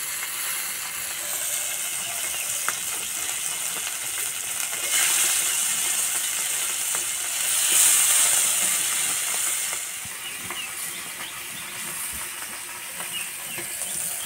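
Spiced fish fries in a pan with a little oil, spices scattered over the top, giving a steady, close, broadband hiss that swells briefly a couple of times, with no voices.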